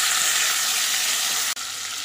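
Chopped onion hits hot oil tempered with whole spices, already used for frying fish, giving a loud, steady sizzle throughout with a brief dip near the end.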